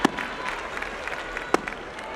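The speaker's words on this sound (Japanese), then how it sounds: "琴櫻のこのルーティンに会場から大きな拍手" A sumo arena audience applauds Kotozakura's pre-bout routine, a broad steady patter of clapping across the hall with a few sharper claps standing out.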